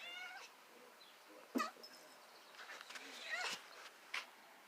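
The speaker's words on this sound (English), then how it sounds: "Ah, it's one of my cats." A pet cat gives a few short, faint meows indoors, scattered across the moment, with someone speaking quietly in between.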